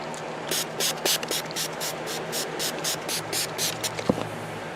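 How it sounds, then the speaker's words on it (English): Kegel bowling ball cleaner sprayed onto a bowling ball from a pump bottle: about a dozen short, hissing bursts in a quick, slightly uneven rhythm, close and clear. "spray down the bowling ball and wipe it off"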